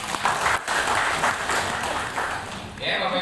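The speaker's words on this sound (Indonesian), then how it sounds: "Kita tepuk tangan dulu." An audience bursts into applause, steady clapping filling the room for a few seconds, with a voice talking over it.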